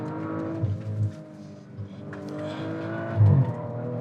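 A 2019 Audi RS4 Avant engine pulls as the wagon accelerates along a straight road, a low droning rise heard from inside the car with brief louder surges, without speech.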